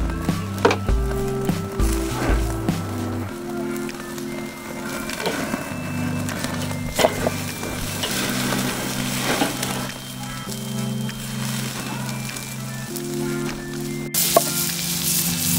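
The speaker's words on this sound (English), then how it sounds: "we'll come back once we flip these steaks, sear the other side" T-bone steaks searing in a hot pan after being flipped, a steady close sizzle with crackling and occasional scraping, loud and continuous with no talking.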